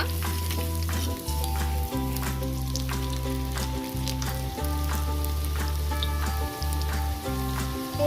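Crab pakora deep frying in oil, a dense, loud, continuous bubbling sizzle heard close up over a steady low hum, with no talking.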